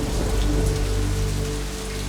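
Heavy rain pours without a break in a dense, steady hiss of countless drops drumming on surfaces, loud and close with no voices.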